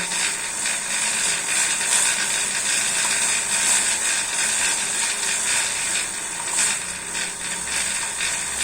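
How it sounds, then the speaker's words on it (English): A bicycle chain whirs and hisses steadily as the crank is spun continuously through a chain scrubber during drivetrain cleaning, with faint ratcheting clicks from the freewheel. "just keep spinning your crank"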